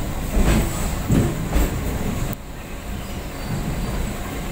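A nearly empty commuter train on a Sunday run toward Sealdah, with a loud, steady rumble of carriage and wheels and rhythmic clatter that swells a few times before dropping slightly in level.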